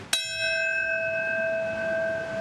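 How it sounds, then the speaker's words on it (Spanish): At the New York 9/11 memorial, a single bell strikes once and its clear ringing tone sustains evenly for over two seconds over faint ambient background, with no speech. "La campana marcaba el primer minuto de silencio."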